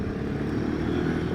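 A Royal Enfield Himalayan 450 motorcycle pulls away, its engine a steady, close, low rumble that rises slightly at the very end.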